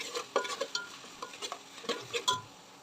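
Ginger-garlic paste cooks in oil in a deep pot over a low flame, with soft intermittent spatula clinks and scrapes over a faint, quiet sizzle.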